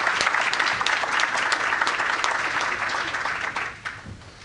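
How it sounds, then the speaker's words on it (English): Attendees at a health policy event on Medi-Cal delivery system reform give speaker Chris Perrone a big round of applause, a dense, steady clapping that fades out over the final second. "please give him a big round of applause"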